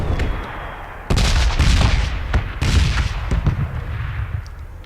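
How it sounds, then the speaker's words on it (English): Explosions go off around the red zone in the video game Battlegrounds: loud, sharp booming blasts in quick succession after a quieter start, with a rumbling tail between hits. "there starts explosions all around."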